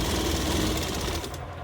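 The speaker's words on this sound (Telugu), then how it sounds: "డబల్ స్టిచ్ చేస్తున్నారు చూడండి." Sewing machine running a double stitch along a blouse lining, a close, loud, continuous rapid whirring clatter that holds steady before easing slightly at the end.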